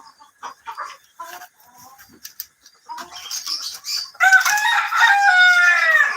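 A short fighter rooster on a farm crows loudly and close at the end, a long harmonic call after scattered softer clucks and bird sounds.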